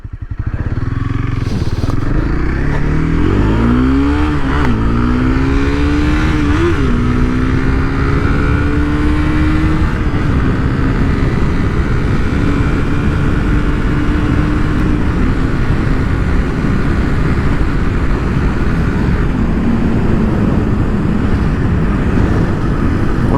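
A 2015 Honda CB300F motorcycle climbs a hill at full throttle in high gear, its engine note rising and wavering before settling into a loud, steady drone with wind rush throughout.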